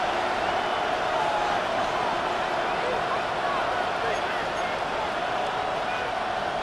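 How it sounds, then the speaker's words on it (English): Stadium crowd cheering in a Madden NFL 26 game between Denver and Atlanta late in the second half, a steady roaring wash of noise that holds at a constant level throughout with no single voice standing out. "The crowd cranking it up another notch before 3rd and long."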